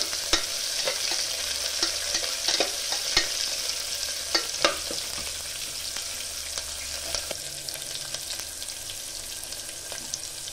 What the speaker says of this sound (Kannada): ಈರುಳ್ಳಿ ಬ್ರೌನ್ ಕಲರ್ ಬರೋವರೆಗೂ ಫ್ರೈ ಮಾಡಿ